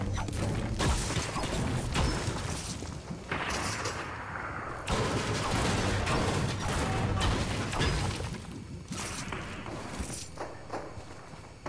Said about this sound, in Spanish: Mucho disparo se oye ahí